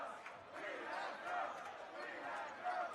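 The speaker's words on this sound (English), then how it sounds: "the chant goes up from the crowd that Flatbush has girls" Spectators at a varsity basketball championship game chant together in a faint, distant rhythmic swell of voices, with gym murmur and commentators talking over it.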